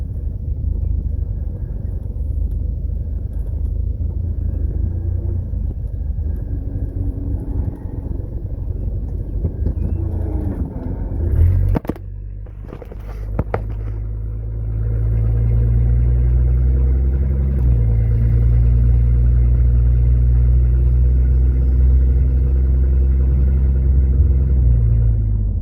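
1979 Ford Granada engine heard on a test drive: a steady low rumble, then a brief clunk and a drop before the engine pulls away with a deeper, louder, continuous drone.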